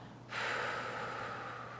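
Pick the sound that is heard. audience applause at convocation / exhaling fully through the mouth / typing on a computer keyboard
exhaling fully through the mouth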